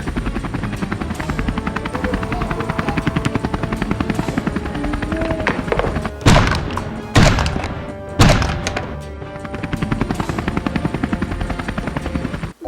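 Harold the helicopter passes overhead with a steady whirring rotor drone, loud and close, cut by three heavy thudding bursts midway before the hum settles back.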